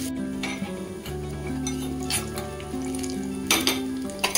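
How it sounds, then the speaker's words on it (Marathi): Green chillies and cashew pieces fry in hot oil for a fasting-style tempering, a steady close sizzle with occasional stirring scrapes and light clinks of a spoon against the pan, no voices. "काजूचे तुकडे टाकले आहेत आणि हे चांगलं फ्राय करून घ्यायचं आहे"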